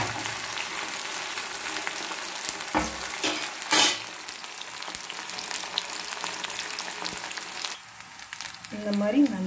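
Sliced okra drops bit by bit into hot oil in a pan, setting off a steady broadband sizzle and crackle throughout, with a few sharper bursts and clatters as pieces go in.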